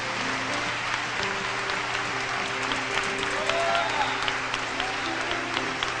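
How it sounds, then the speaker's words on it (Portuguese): A church congregation applauds with dense, sustained clapping that fills the space evenly, with faint music and a murmur of voices underneath. "Irmãos, eu quero que vocês tenham uma salva de palmas por essas pessoas."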